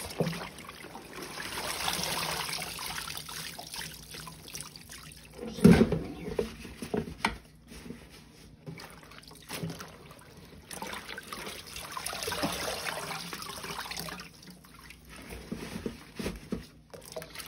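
Corn husks for green corn tamales are rinsed under running water, giving a steady trickle and splash with a louder slosh midway as they are handled, no talk.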